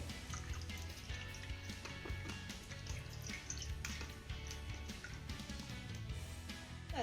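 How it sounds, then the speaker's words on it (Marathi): Raw green mangoes are rubbed and washed by hand in water, giving continuous close splashing, trickling and dripping with soft handling sounds and no talk. "ह्या कैऱ्या आपल्याला हाताने छान अशा चोळून धुवून घ्यायच्या"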